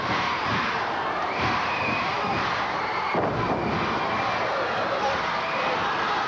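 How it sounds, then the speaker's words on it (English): Arena crowd roars and cheers during a 1986 NWA professional wrestling tag-team match, a steady, loud, sustained wall of noise with a commentator's voice mixed in. "Listen to our crowd."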